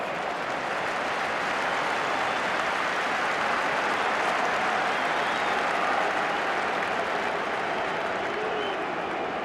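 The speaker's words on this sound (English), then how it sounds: "The roar of the crowd as Rodber goes for the line." A huge rugby crowd roars steadily at an England v France Five Nations match in 1995, a dense, continuous wall of cheering and applause that swells slightly in the middle as a forward charges for the try line.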